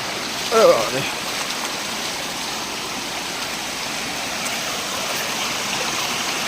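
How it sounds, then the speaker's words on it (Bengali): A waterfall and hillside stream run swollen after a day of rain, giving a steady, loud rushing roar throughout, with a brief bird chirp early on. "এই যে দেখতে পাচ্ছেন ঝর্ণা"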